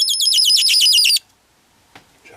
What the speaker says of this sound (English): We can change the frequency here by adding, say, different voltages to this part of the circuit here, the chirp generator.